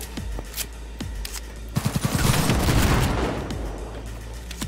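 Video game gunfire in Cyberpunk 2077: a few scattered sharp shots, then a quick burst of four close cracks leading into a loud, roaring volley of heavy automatic fire that slowly tapers off.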